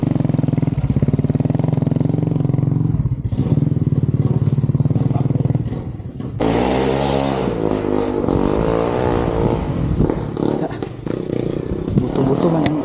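A motorcycle engine runs close by with a rough, rattly idle, then shifts to a lower chugging throb partway through, with a voice briefly heard over it.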